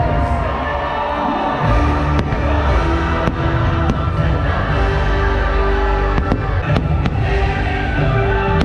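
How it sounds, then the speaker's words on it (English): Fireworks show at Disney World's Magic Kingdom during a Christmas after-hours event: a continuous loud roar of booms and crackles with sharp individual bangs cutting through, crowd noise and cheering mixed in throughout. "Great fireworks show."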